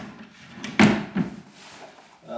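A drawer in a studio apartment kitchen slides and bumps shut, two sharp knocks a moment apart amid quiet room tone.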